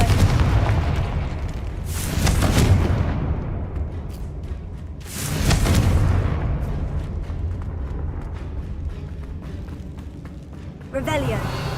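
Confringo fire spell blasts in the Hogwarts Legacy video game: two loud booming explosions with long rumbling tails a few seconds apart, followed by a brief bright chime near the end.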